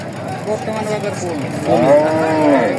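A cow at a livestock market gives a loud, close moo that rises in the second half, amid background chatter of the market.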